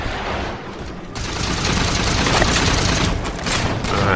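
Dense, continuous gunfire with booming blasts during a Halo 4 Big Team Slayer match on Exile, loud and sustained throughout with no pauses.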